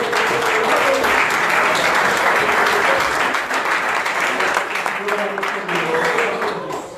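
Congregation at an evangelical church service applauding, a dense sustained wash of many hands clapping at moderate distance, with voices and exclamations mixed in throughout.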